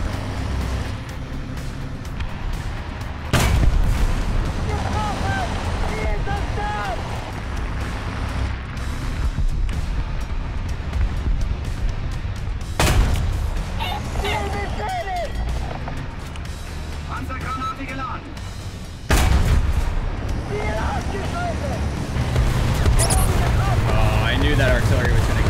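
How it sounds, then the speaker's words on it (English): Artillery shells strike around a German tank in a tank combat video game, with heavy booming impacts at intervals over a constant engine rumble while someone talks throughout. "I knew that artillery was going to drop right on top of you"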